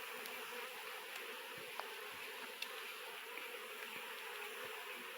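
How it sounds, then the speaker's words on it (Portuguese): Italian honey bees swarm around a hive during honey harvesting, giving a dense continuous buzzing drone, steady and moderately close, with occasional faint knocks and no voices. "Essa abelha aqui é pra trabalhadeira"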